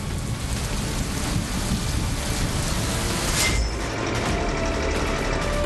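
Heavy monsoon rain on a waterlogged road in Andheri, Mumbai, a dense continuous roar of downpour with low traffic rumble underneath, loud and steady throughout.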